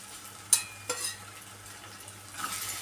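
Onion and coconut masala with turmeric, garam masala and Malvani masala being sautéed in a pan: a soft continuous sizzle with a couple of sharp spoon knocks against the pan, close and without talk.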